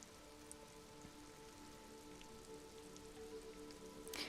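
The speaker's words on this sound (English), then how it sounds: "Sheets of rain over the water." Rain falls over water in the detective game Disco Elysium, a steady, soft, hissing patter that continues evenly throughout, with a faint low hum under it and a slightly louder burst near the end.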